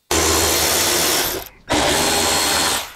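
A power tool drives out the blinker bolt on a Harley-Davidson Road Glide fairing, a loud, close, steady whir in two long bursts split by a brief pause, with no talk.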